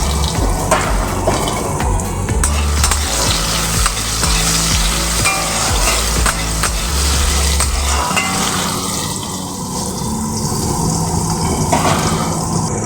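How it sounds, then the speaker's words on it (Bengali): Potatoes frying in a pan with whole garam masala spices for a Kabuli chana dish, a steady close sizzle with stirring scrapes, briefly mixed with running tap water and a low hum. "আলুগুলো আমি একটু লাল লাল করে ভেজে নেব"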